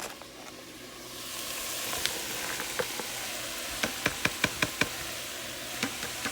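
Vegetables, including cabbage for spaghetti sauce, hit a hot pot and sizzle with a rising steady hiss, punctuated by sharp knocks and taps of a utensil against the pot, close by with no talking.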